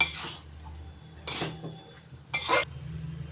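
A spoon clatters and scrapes against a pan in three distinct close bursts while banana flower and potato curry is stirred, with a low kitchen hum filling the gaps between strokes.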